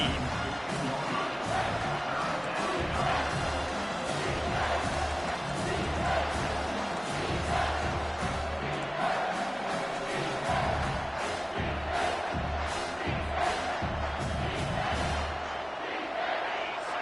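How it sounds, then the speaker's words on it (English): A college football stadium crowd roaring on a third down in the red zone: a dense, sustained wall of cheering and yelling that stays loud and steady from start to finish. "this crowd is tearing the lid off this place."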